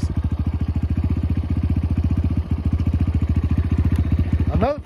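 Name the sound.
Motos 250 motorcycle engine idling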